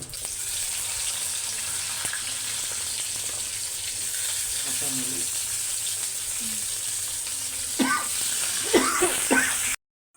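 Continuous sizzling of onion and dried fish frying in an oil-filled pan, steady and close, with a few scraping stirs near the end.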